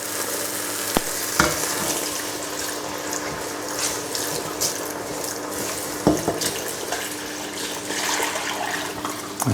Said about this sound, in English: So I put nice hot stock in there.